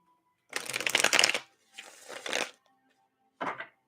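Tarot cards being shuffled by hand, close and crisp, in three bursts: a long riffle, a shorter second pass, then a brief final flick after a pause.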